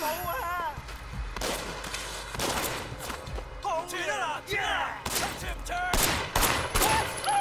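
Bursts of gunfire pop repeatedly in Sleeping Dogs, a Hong Kong crime action game, loud clustered shots mixed with shouting voices and combat noise.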